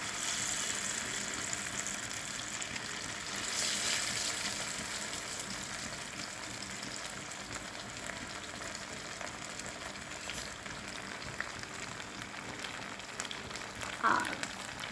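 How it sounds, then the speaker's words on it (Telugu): Fish fries in hot oil for a Sunday fish fry, making a steady, close hiss and crackle that runs unbroken throughout with a few sharper pops near the end and no talking. "ఆయిల్ బాగా వేడెక్కింది ఇప్పుడు ఫిష్ ఇప్పుడు ఫిష్ వేద్దాము"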